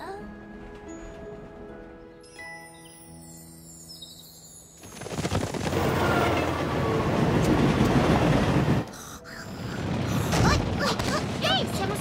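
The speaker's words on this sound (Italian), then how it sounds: "Si avvicinano pericolosamente al treno!" A loud, roaring rush of a train passing close by in the animated series My Little Pony: Friendship Is Magic, rumbling for several seconds, then dropping out briefly before resuming; tonal music and a dog barking precede it.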